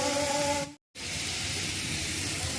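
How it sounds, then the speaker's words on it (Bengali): Rice frying in hot oil with cardamom, bay leaf and cinnamon gives a loud, continuous hissing sizzle that cuts out briefly, then resumes steadily. "আমি চাউলগুলাকে ভালো করে ভেজে নিব।"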